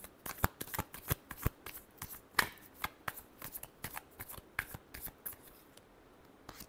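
Tarot cards being shuffled by hand, a steady run of crisp riffling flicks and soft slaps repeating close up for several seconds, with no talking.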